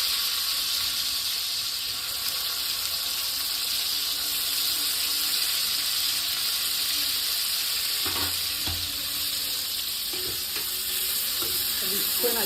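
Bombil fish fry in hot oil in a kadhai with a steady, loud, close sizzle that never stops. A few faint clinks and stirring sounds come through near the end.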